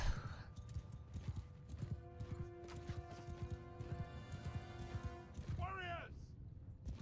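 Horses' hooves clip-clopping in a video game battle, soft rhythmic hoofbeats with a neigh near the end, under talk and faint tonal game sounds.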